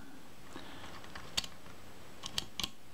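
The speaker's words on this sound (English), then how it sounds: "and the shutter releases nicely." A Kodak Retina II type 014 camera shutter releasing after servicing gives a few sharp, crisp mechanical clicks: one near the middle, then two close together toward the end, over a quiet room.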